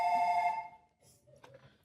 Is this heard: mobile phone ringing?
yes